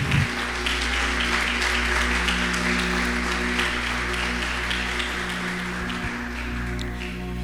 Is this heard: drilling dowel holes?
no